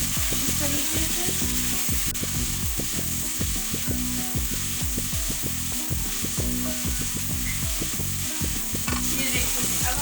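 Tomatoes and masala fry and sizzle in a pan for kofta aloo curry, with a steady hiss under a quick, regular series of stirring scrapes and knocks against the pan, close and continuous.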